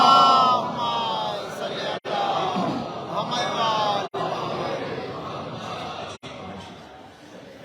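A large gathering at a majlis in a mosque loudly reciting salawat together, a booming unified chant in long phrases that rise and fall, broken by short pauses between repetitions.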